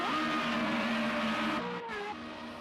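A Formula Renault race car in a sim racing game at the Zhuhai circuit, its engine whining steadily at high revs as it approaches the final corner, then briefly dropping pitch as it lifts and shifts, close and alone.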